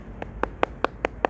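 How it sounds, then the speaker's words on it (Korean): An audience claps in a steady, even rhythm at the launch rally of the National Revolution Party (국민혁명당). Six sharp, crisp claps land about five times per second and stand alone without speech. "박수를 좀 세게"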